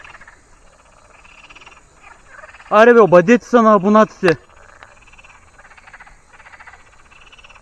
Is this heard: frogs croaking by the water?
yes